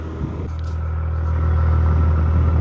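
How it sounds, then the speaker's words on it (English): A 2025 Acura TLX Type S engine rumbles low and steady, its exhaust note swelling gradually louder over a couple of seconds, with no voices. "Listen to that exhaust."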